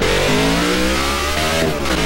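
Race car engines in a NASCAR Xfinity-style racing game roar loudly and continuously, one engine rising in pitch as it revs up, with steady harmonic whine throughout and no talking.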